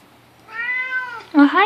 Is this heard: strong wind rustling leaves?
no